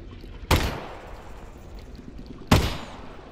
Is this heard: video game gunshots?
yes